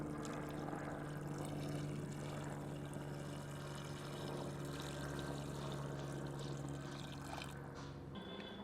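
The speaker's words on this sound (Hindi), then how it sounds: "1 लीटर के लगभग पानी सम्मिलित करते हैं।" About a litre of water is poured into a pressure cooker holding mutton and garlic cloves, a steady close-up stream that runs continuously for several seconds with a constant low hum underneath.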